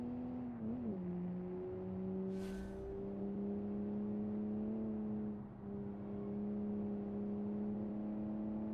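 Car engine in the BeamNG driving game held in third gear at full power, a steady droning note that dips briefly and climbs again, loud and continuous with no talking.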